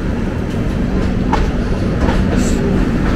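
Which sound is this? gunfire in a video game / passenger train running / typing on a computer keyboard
passenger train running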